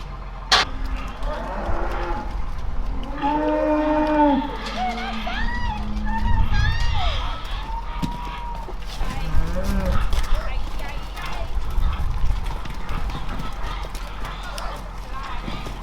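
Cattle leaving a farm shed in spring moo repeatedly and loudly at close range, with hooves clopping and shuffling and a steady low rumble underneath.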